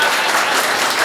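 An audience at an Islamic talk bursts into dense, steady clapping, loud and close, filling the moment without any speech.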